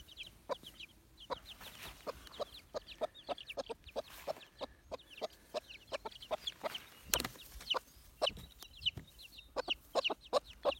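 A mother hen clucks repeatedly in short, rhythmic bursts to call her chicks outdoors on a lawn, with higher chick peeps scattered among the calls; the sounds are close and fairly steady.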